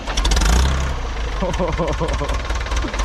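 A Ford 6610 twin-axle tractor engine runs and revs with a heavy, throbbing knock, loud and close, with people talking over it.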